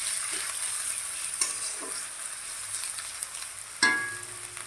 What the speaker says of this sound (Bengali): দিয়ে গ্যাসটাকে বাড়িয়ে এটাকে ভাজতে হবে